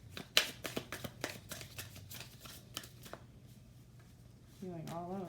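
Tarot cards riffled and shuffled in quick bursts of crisp flicks, close up, followed by a brief spoken voice at the end.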